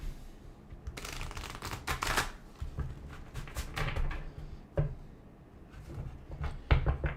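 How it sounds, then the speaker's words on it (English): A deck of tarot cards being shuffled by hand, a run of crisp riffling bursts and soft card slaps close up, with quiet gaps between flurries. "let's take a look as I shuffle the cards and we'll get started"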